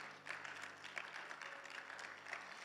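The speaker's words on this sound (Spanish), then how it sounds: "Denle un fuerte aplauso" Congregation applauding at a church Bible class after a communion service, a steady wash of clapping at moderate level running throughout without pause.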